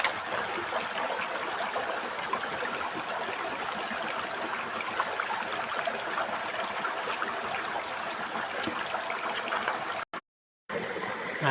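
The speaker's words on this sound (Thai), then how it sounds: "ตอนนี้นะครับเราก็เดินทางมาถึงริมลำธารแล้วนะครับ" Steady flowing water of a forest stream, continuous and close with an even rushing texture and no talk, cutting briefly to silence near the end.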